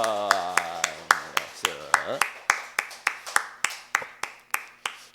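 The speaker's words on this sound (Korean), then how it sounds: "박수!" A church congregation at a Sunday sermon claps in steady unison, a string of crisp, evenly spaced claps following a brief spoken prompt from a preacher.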